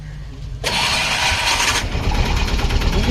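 A 2008-model vehicle engine turns over on its self-starter and catches abruptly, then settles into a loud, steady idle that carries on close by.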